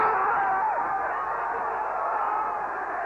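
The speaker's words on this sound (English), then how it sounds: "That was the sound of Scotland celebrating tonight as the only goal of the match went in." Crowd of Scottish football fans in a Glasgow stadium celebrating a goal, a steady, loud roar of massed cheering sustained throughout.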